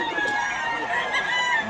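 Chickens and roosters at a live-poultry stall in a Bocaue market, crowing and clucking steadily and fairly close, with a faint bit of voice in the background.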